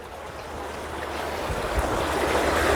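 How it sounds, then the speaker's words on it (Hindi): Steady rushing water flows continuously, a broad, unbroken wash of noise that swells slightly louder toward the end, with no voices. "बहुत ज़बरदस्त पानी यहाँ चल रहा है।"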